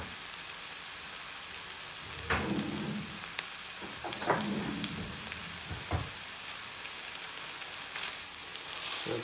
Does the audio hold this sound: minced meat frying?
yes